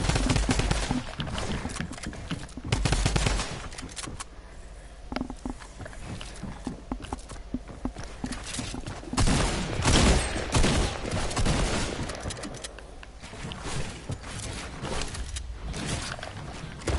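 Rapid gunshots in a video game fired through a wall, a dense clattering string of close, loud shots with irregular bursts throughout and no talk.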